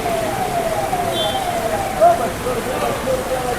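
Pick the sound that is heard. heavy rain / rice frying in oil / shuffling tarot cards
heavy rain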